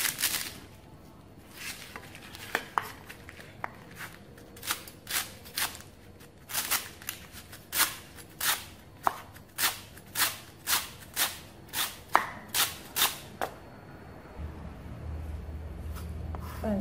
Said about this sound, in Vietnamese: Bạn cắt lá dứa ra